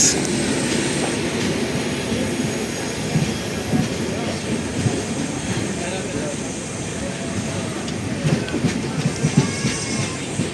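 The Seshadri Express, a train with an upgraded LHP rake hauled by a Vijayawada locomotive, rumbles and clatters steadily as it moves off, wheels squealing occasionally, with someone talking over it.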